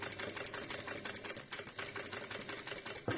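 A sewing machine stitches steadily through layers of fabric during freehand quilting, a fast, even mechanical clatter running continuously at close range, with a brief knock near the end.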